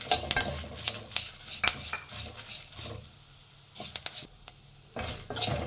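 Guntur and Byadgi dried red chillies with curry leaves fry in a pan, a soft close sizzle broken by irregular stirring clatters and spoon scrapes, with no talking.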